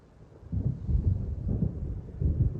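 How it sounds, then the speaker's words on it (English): Deep rolling thunder from a storm moving in, heard in the game Alan Wake Remastered; low rumbles swell and sustain for a couple of seconds with no voices. "It seems there's a storm coming."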